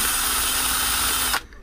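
Power drill spinning a cheap hardware-store wire brush against a freshly cast copper ingot, a loud steady whir with a grinding edge that cuts off sharply near the end.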